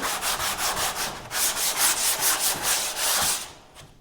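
Hand sanding of car hardtop bodywork with 120 grit sandpaper: rapid, regular back-and-forth rasping strokes, close and loud, about three per second, easing off at the end.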